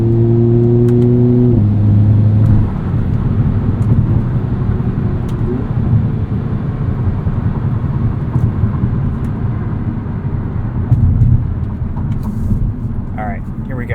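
A 2022 Hyundai Kona N pulls onto an entrance ramp, its engine droning loudly and steadily with a rising tone early on and a brief shift near the start, the cabin drone continuing under faint talk.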